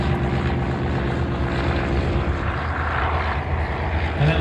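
A Nieuport 16 biplane flies past at an air show, its propeller engine droning steadily and loudly throughout with a broad rumbling roar.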